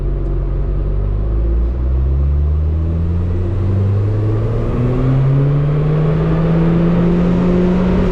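A Ford Escort RS Turbo running MaxxECU management is revved at full throttle, its engine note climbing steadily in pitch over about eight seconds, loud and close with a constant rumbling drone.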